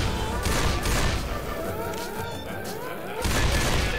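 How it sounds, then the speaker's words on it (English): Fireworks burst in Left 4 Dead 2's Dark Carnival, a dense rapid crackling fusillade of pops and bangs with whistling streaks, dipping briefly before another loud barrage erupts. "And the fireworks."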